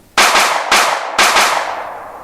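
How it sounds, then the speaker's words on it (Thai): Three loud, sharp gunshot blasts in quick succession, each with a long ringing decay, close and echoing, with no voices. "ปรากฏเสียงปืนรัวกระหน่ำไม่ต่ำกว่า 4-5 นัด"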